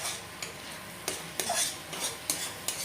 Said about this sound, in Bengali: আর এখন এই গুঁড়া মশলাগুলো একবার ভালো করে আমরা কষিয়ে নেব